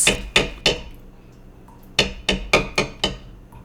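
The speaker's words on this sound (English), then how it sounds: "You can hammer with anything. You don't need a hammer to hammer" Sharp hammer strikes on a hard surface, three quick blows, a pause, then five more in a brisk, slightly uneven rhythm, loud and close with no voices.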